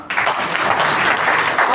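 An audience claps during an agriculture development speech at Vrindavan Hall, a dense burst of applause starting abruptly and continuing steadily, loud and close.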